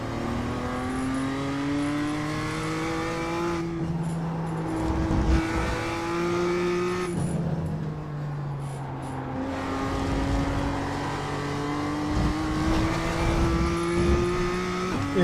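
BMW M2 race car engine lapping Okayama in the iRacing sim, repeatedly climbing in pitch through the gears with brief drops at each shift and lift, loud and close with no voices.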